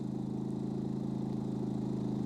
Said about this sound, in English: as you can hear, the machine lifted the revs to combat the extra load that's gone on it.